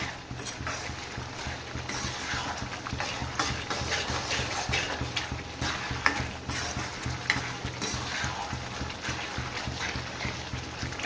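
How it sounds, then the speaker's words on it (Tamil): Garlic pickle frying in oil in a pan, stirred steadily throughout: a continuous dense sizzle with scraping stir strokes, close and fairly loud, with no talk. "இந்த டைமில் கொஞ்சம் நம்ம மிக்ஸ் பண்ணிட்டு தான் இருக்கணும் கொஞ்சம் நேரம் விட்டு விட்டு இல்லைன்னா அடி பிடிச்சிரும்"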